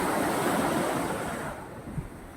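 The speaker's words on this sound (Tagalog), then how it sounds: "may alon na naman. Maliit." Small sea waves wash in near a shoreline with wind, a soft continuous surf rush that fades toward the end, alone with no voices.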